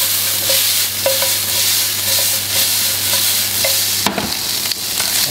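Salted shrimp cook in a pot for seafood pasta, giving a steady close sizzle with a stirring utensil clinking and scraping against the pot several times, then a sharper knock near the end.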